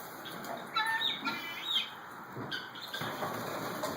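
Guinea fowl on a farm call with harsh, repeated squawking cries over a steady background hum, the sound close and fairly loud, with a brief flutter of wings among the calls.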